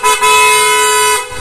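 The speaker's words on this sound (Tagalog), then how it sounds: "Yun, PIA horn." A PIA aftermarket horn rewired on a GTR Supra 150 motorcycle blares in one loud, sustained honk, close and steady for over a second.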